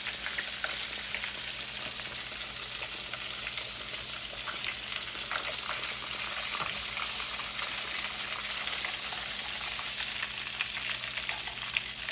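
Salmon deep-frying in hot cooking oil, a dense continuous sizzle with fine crackling pops that holds steady and close throughout.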